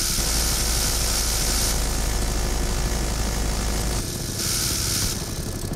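Helicopter engine in the video game BattleBit, a loud steady rotor and turbine drone with dense broadband roar that holds throughout, dipping slightly near the end.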